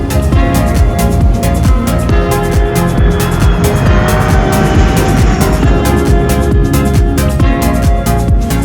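A car pulls up and arrives at an airfield where private jets operate, its engine rumbling loud and steady, with tire noise and a busy, continuous roar throughout.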